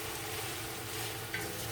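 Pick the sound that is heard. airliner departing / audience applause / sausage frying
sausage frying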